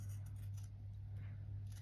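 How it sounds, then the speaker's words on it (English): Small scissors, about five inches long, snip through quilt fabric for fine detail on a mini landscape quilt, a short run of quiet, close, crisp cutting strokes against a low steady hum. "these scissors, which is easier for me to cut out the detail"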